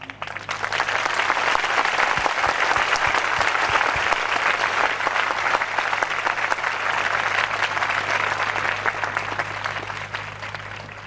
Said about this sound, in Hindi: ताली बजदी है।